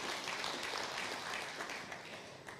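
A church congregation applauds in a steady, dense wash of clapping that holds evenly for a few seconds, moderately distant and fairly soft.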